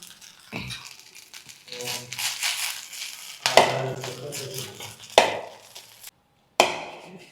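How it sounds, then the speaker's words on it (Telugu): Fresh moringa leaves and tamarind go into hot oil in a home kitchen pan, producing bursts of crackling, crinkling sizzle, with sharp spikes as more is added and one brief quiet gap. "ఈ ఆయిల్లోకి మనం మునగాకు యాడ్ చేసుకుందాం ఇందులోకి చింతపండు యాడ్ చేసుకుందాం"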